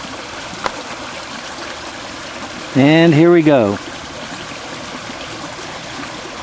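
Sediment-laden muddy water discharges into a tributary flowing into Third Creek, a steady trickling and rushing flow heard throughout, broken briefly by a short spoken phrase.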